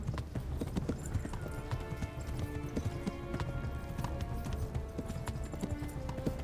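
Horse hooves clip-clop steadily at a gallop in the medieval game Kingdom Come: Deliverance, a continuous drumming rhythm layered over game music, with no talk.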